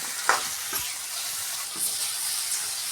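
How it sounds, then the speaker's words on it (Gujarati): Okra roasting in a pan makes a continuous bright sizzle and hiss, broken by a few soft stirring scrapes over three seconds, with no voices. "આઠથી દસ મિનિટ સુધી ભીંડા શેકાવા દઈશું થોડી થોડી વારે વચ્ચે વચ્ચે એને ફેરવતા રહીશું"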